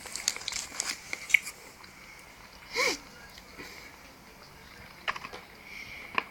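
Soft, sparse keystrokes on a computer keyboard come in short bursts with pauses, quiet and close, with a faint rustle partway through.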